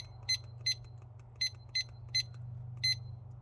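A digital meat probe timer for smoking a brisket gives short, high, faint electronic beeps at irregular intervals while it is being set, over a low steady hum.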